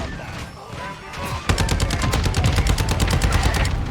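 Automatic gunfire in Call of Duty: Modern Warfare II, an opening stretch of scattered sounds followed by a steady, rapid stream of loud, close shots running to the end.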